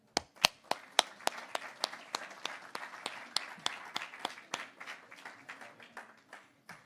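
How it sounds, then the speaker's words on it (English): An audience at the 2019 World TeamTennis Draft claps steadily, with distinct individual claps standing out at a moderate distance and slowly thinning toward the end. "everyone should just give themselves a round of applause"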